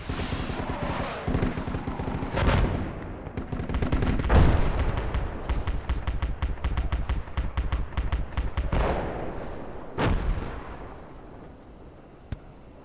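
Mortar and gunfire in the military shooter Project Reality, with heavy booming impacts at intervals over a dense rattle of distant shots and rumbling battle ambience, occasional sharp louder bursts standing out.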